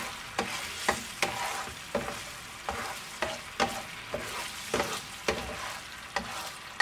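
Chicken tocino sauce bubbles and thickens in a pan over medium heat, under a steady sizzle broken by regular utensil clicks or pops about every half second.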